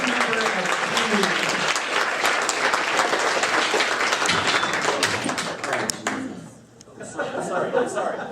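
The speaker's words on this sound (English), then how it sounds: "let's have a big round of applause for Jeffrey, the newest member of Team" Loud audience applause at a live comedy show, dense clapping with scattered cheers and chatter, fading around the sixth second before a smaller burst of clapping and voices returns.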